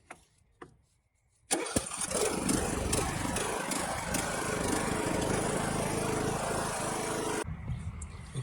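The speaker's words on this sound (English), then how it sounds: "All right, let's start the motor then." A Troy Bilt Pony lawn tractor engine starts after a couple of faint clicks, catching abruptly and running loud and steady for about six seconds before cutting off.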